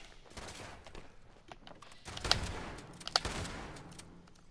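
A shotgun firing in the video game Fallout 76 during close-quarters combat: two sharp, heavy blasts about a second apart, each followed by a short decay, over quieter background rustle and smaller pops.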